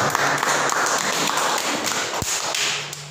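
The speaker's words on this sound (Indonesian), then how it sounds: "Tepuk tangan dulu, tepuk tangan." A seminar audience claps in a dense, continuous patter with a few sharper slaps standing out, fading slightly toward the end.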